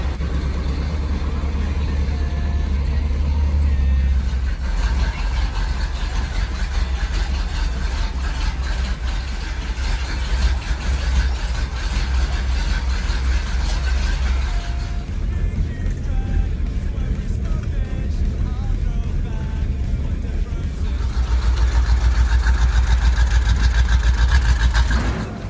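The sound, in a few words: Ford Thunderbird engine with Holley carburettor idling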